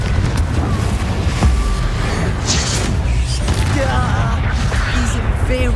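Confringo fire spell explosions in the video game Hogwarts Legacy, loud booming blasts over dense game noise, with voices heard among the action.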